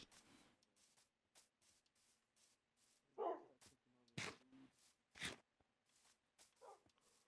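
Dog barking in the Minecraft video game: a few separate yips and barks scattered among soft rhythmic game tapping, fairly quiet overall.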